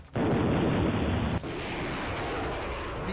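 A blast in war news footage from the Russia-Ukraine conflict, a sudden loud roaring burst that holds for over a second, then drops to a sustained rumbling wash of noise.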